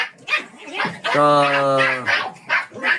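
Puppies yip and let out a drawn-out, whining bark, close by, amid short bursts of a person talking.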